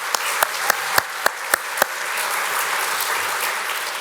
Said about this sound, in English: let's just take another moment to applaud our musicians